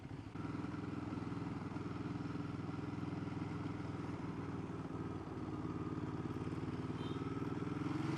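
A motorcycle cruises steadily along a road at traffic speed, its mid-pitched engine droning loud and continuous for the whole stretch, with wind noise and no talking.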